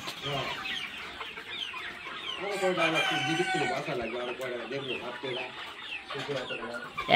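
A rooster, one of several offered for sale as breeding stock for Tiger chickens, clucks and crows nearby in a loud run of calls, with people talking in the background.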